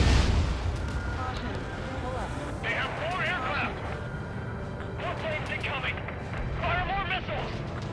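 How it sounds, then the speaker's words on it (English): Ace Combat 7 missiles firing and exploding around a castle in a lost kingdom, deep booms and rumbling bursts under steady engine roar, while voices talk over the action in several stretches. "just fire more missiles!"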